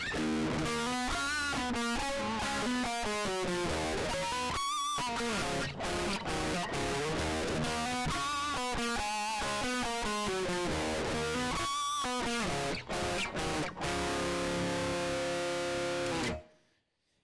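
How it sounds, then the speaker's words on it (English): A distorted electric guitar plays a fast, choppy riff with abrupt stops and sustained notes, loud and alone, ending in a sudden cutoff. "make sure you got some distortion on, and we'll run through that riff"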